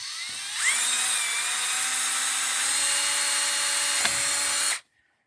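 A close power drill spins up and runs at a steady high whine for several seconds while working on an XR250R motorcycle, then cuts off abruptly into silence.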